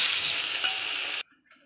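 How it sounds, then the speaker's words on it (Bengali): Water poured into a pan of frying masala gives a loud, hissing sizzle that holds steady for just over a second and then cuts off abruptly, leaving near silence. "এবার আমি এতে জল ঢেলে দেবো।"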